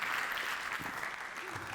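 Audience applause at a live stage show: a brief, dense wash of clapping from the crowd, steady and fairly loud throughout.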